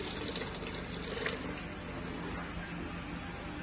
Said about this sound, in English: A little water on it.